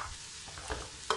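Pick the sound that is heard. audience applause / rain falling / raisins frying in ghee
raisins frying in ghee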